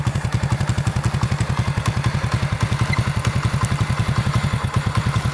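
A 13-year-old Delta moped engine runs in winter with the choke on, a loud, close, rapid even putter that stays steady throughout.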